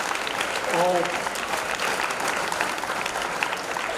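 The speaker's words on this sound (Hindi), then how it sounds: "तो एक बार जोरदार तालियां हमारी इंडियन आर्मी के लिए।" An audience at a school mock drill event claps steadily and fairly loudly for several seconds, with a brief spoken word heard over the applause at the start.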